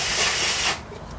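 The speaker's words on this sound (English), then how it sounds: "I'll switch it off and I'll spray that cap." An aerosol spray can hisses a short burst onto the main smoothing capacitor inside a Commodore 1084S monitor under repair, close and steady for under a second, then cutting off to quiet room noise.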